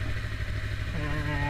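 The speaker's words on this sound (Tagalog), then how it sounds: "Ito, motor ng anak ko," A Yamaha R3 motorcycle engine idles close by with a steady, slightly clattering rumble, and its pitch rises a little toward the end.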